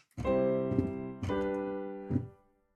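Two sustained chords forming a half cadence, one to five, ring out one after another, each struck cleanly and held, moderately loud with no voices.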